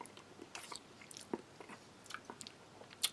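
Faint, close chewing and biting of canned tuna in oil with peas from an Italian military 24-hour ration, soft irregular crunchy mouth sounds with no talking.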